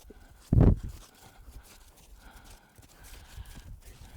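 Horse hooves striking the ground during a training session, with one loud close thud near the start, then softer scattered footfalls under low background noise.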